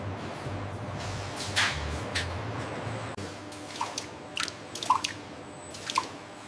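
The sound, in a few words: latex dripping off condom moulds in a factory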